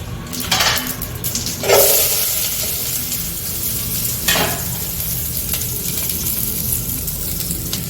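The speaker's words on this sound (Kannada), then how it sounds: "ಇವಾಗ ಬಿಟ್ಕೊಂಡಿದ್ದೀನಿ ಒಗ್ಗರಣೆ ಹಾಕ್ತಾ ಇದ್ದೀನಿ" Steady crackling sizzle of tempering spices in hot oil for buttermilk sambar, with a few sharper bursts of spattering, close and fairly loud, no voices.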